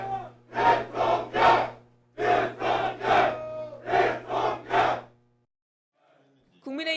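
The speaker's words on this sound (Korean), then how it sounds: "국민의힘은 환호성을 지르며 활기를 찾은 반면" People Power Party supporters at an election night gathering send up rhythmic group chants in loud bursts, several waves in quick succession, then a short quiet before a voice begins.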